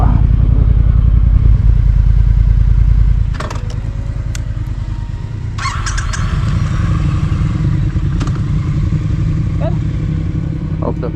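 A loaded motorcycle carries two riders at the start of a road trip, its engine rumbling steadily up close with shifting revs and some clatter as it pulls away.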